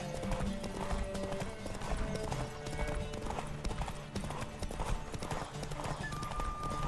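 A horse galloping in the video game The Witcher 3: Wild Hunt, with rapid, continuous hoofbeats close and loud, some whinnying, and the steady rhythm running under game sounds for the whole stretch.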